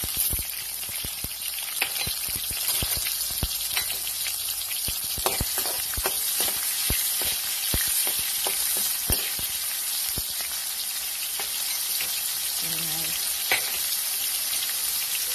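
Onion and tomato sizzle steadily as they sauté in a hot pan, a bright continuous hiss broken by crackling pops and occasional stirring scrapes.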